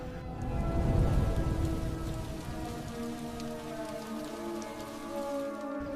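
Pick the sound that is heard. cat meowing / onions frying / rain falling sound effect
rain falling sound effect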